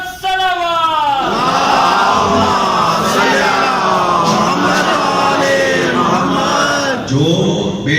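A crowd gathered for a religious majlis at an imambargah answers with a loud, unified chant of salawat, many voices rising and falling together in a sustained roar that fills the hall.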